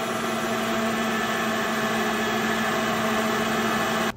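Electric sausage grinder pushing Cajun boudin into casing, a steady close mechanical whine and hum running evenly before cutting off abruptly at the end.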